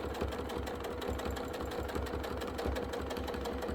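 A sewing machine runs steadily while free-motion stitching a quilt, its rapid rhythmic needle thumps close and continuous throughout, with no voices.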